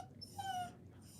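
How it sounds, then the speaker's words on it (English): A dog crying indoors gives a short, high, drawn-out whimper, close and fairly soft, rising and then trailing off. "my dog is crying"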